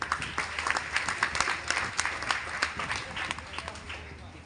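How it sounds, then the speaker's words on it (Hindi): Audience clapping at a motivational speech event, a dense burst of hand claps with sharp individual smacks, fairly close and steady before tapering slightly. "एक बार आप सबके लिए जोरदार ताली।"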